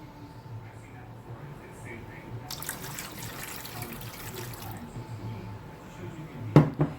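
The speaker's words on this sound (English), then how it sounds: "You're going to add some water." Water splashes and pours into a lasagna baking dish for about two seconds in a quiet room, followed by a short clatter of the dish being handled.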